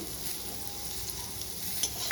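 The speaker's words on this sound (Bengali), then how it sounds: "লবণ দিয়ে একটু ভেজে নেব" Pointed gourd (potol) pieces salted and frying in oil in a pan, a soft continuous sizzle with faint stirring, quiet and steady with no voices.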